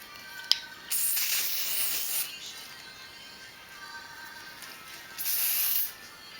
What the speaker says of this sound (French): vous appliquez un petit peu de spray net pour fixer le tout